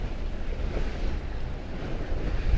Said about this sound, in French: parce qu'il y a vraiment de la houle